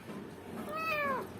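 A kitten gives a single short, rising and falling meow, close and fairly quiet over light background noise.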